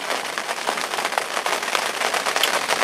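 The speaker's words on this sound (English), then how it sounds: "just got a few hours now to sit out this heavy rain" Heavy rain in winter at a fishing lake, a dense, loud, steady patter of drops drumming close on a surface such as a shelter roof, with no talk.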